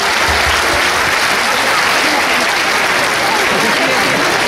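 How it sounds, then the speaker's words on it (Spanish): A crowd claps loudly and continuously at a festival in Izúcar de Matamoros, Mexico, a dense wash of applause filling the whole moment. "Recíbanlo con fuerte aplauso."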